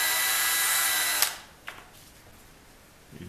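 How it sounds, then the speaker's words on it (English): A power drill bores out the small metal arms of an organ conductor to 3/32 inch, a steady high whine that stops abruptly, followed by a couple of faint clicks and a quiet workshop. "Drill out the arms to 3/32."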